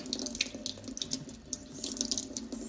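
Tap water runs and splashes through a bunch of parsley being rinsed under a faucet, a close, continuous watery patter with small uneven bursts.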